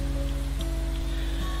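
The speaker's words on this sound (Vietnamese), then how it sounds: "sau đó là một cơn mưa xối xả" Heavy pouring rain, a steady close wash of dense drops beating on surfaces, continuous and evenly loud across the short stretch.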